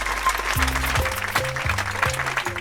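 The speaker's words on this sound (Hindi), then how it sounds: "तालियां!" An audience at a public gathering claps in a dense, even wash of applause, while a steady tonal musical line plays underneath.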